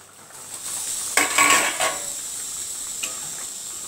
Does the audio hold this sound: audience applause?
no